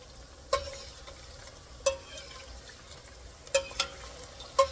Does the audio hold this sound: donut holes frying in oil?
yes